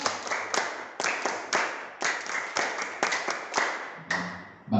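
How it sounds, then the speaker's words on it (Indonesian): A group claps out the rhythmic Pramuka scout clap, sharp hand claps in quick bursts and grouped beats repeating steadily, fairly close and loud, with no talking over them. "Tepuk pramuka."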